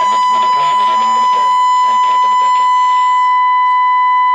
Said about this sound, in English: So you can hear the radio signal there and the tone in the background.